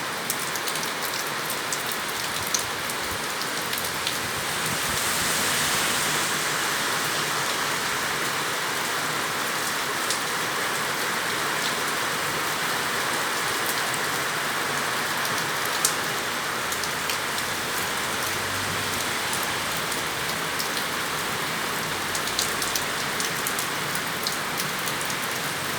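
Heavy, steady rain pours down in Santo Antônio de Pádua on a wet day, a dense, continuous hiss of drops drumming on surfaces close by, with no voices and no thunder.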